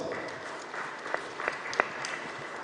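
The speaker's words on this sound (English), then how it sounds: "that answer deserves a little bit of a round of applause" A quiz audience at a Goa history quiz gives a modest round of applause for a team's answer, with soft, scattered clapping and a few sharper individual claps.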